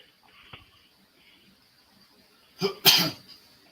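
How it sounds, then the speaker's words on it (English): Two quick, harsh coughs burst out close to the microphone near the end, after a faint earlier throat sound in a quiet room. "That's me, I coughed."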